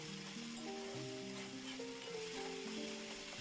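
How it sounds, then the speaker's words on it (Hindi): Galka (sponge gourd) curry cooking in oil is stirred, producing a soft, steady sizzle with faint scraping. Gentle tonal music plays over it the whole time. "तो फिर से हम एक बार ये सब्जी को अच्छी तरह से मिक्स कर लेंगे"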